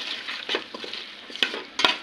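Turmeric, salt, chili powder and garam masala fry in oil in a pan, a soft sizzle with a few light scrapes of a stirring spoon, close and fairly quiet.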